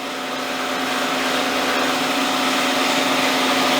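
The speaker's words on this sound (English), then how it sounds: "So I can stop the spindle, stop the coolant" A CNC machine spindle runs steadily with coolant flowing during a cleanup pass on the edge of an ISO 20 tightening fixture. It gives a continuous, even whine with a wash of spray and no talking.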